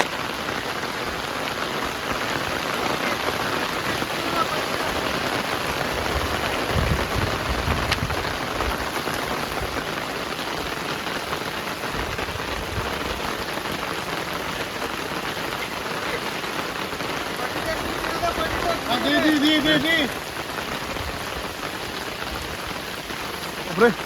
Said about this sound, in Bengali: জানতাম আজ বৃষ্টি নামবেই নামবে